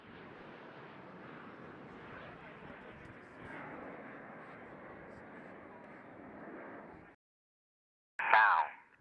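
Red Arrows jets flying a diamond roll at the Bournemouth Air Festival make a steady, distant roar under continuous commentary. After it cuts off there is a short loud burst.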